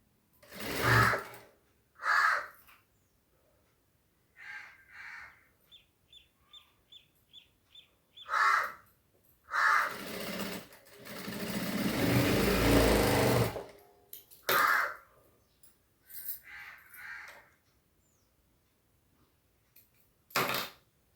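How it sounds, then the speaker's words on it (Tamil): A sewing machine stitches piping onto a blouse in a home setting, running in several short bursts and one long continuous stretch, with faint bird chirps in the background and no talk. "by bin தைச்சிட்டேங்க"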